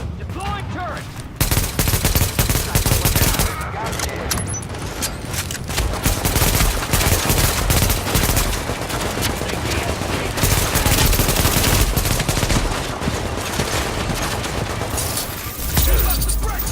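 A deployed turret in The Division fires continuous rapid automatic bursts, loud and close, layered with other gunfire and battle noise almost without pause.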